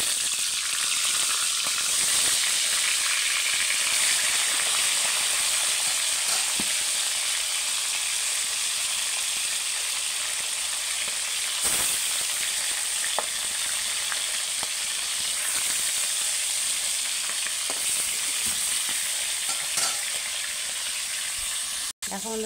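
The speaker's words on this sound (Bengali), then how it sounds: "কড়াতে আমি তেল দিয়ে দিয়েছি, মাছ তুলে দেবো।" Rupchand pomfret fish frying in hot oil in a wok, a steady bright sizzle running throughout with occasional stirring clinks and pops, fairly close and constant.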